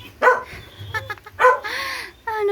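Two dogs squabbling at home, with sharp yips, barks and whimpering whines in quick irregular bursts, close and fairly loud.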